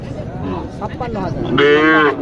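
A cow gives a drawn-out moo near the end, overlapping with voices and background chatter of a busy outdoor cattle market crowd in Naogaon.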